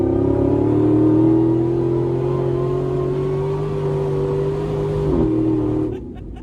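A loud off-road Jeep engine revs and holds a steady drone, pitch shifting slightly before dropping off near the end.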